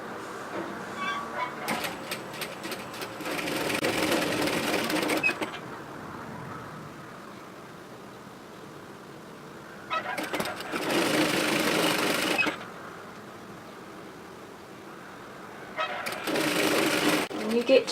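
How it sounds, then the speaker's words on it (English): A sewing machine stitches a seam on a rear-zip hoodie in three separate runs, each a few seconds of steady rapid whirring, with quieter pauses between them and a voice talking at times. "So go ahead and stitch that all the way through to the other side."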